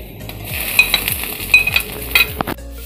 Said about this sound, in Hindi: इसमें अब हम हरी मिर्च, लहसुन, टमाटर ये सबको डाल देंगे।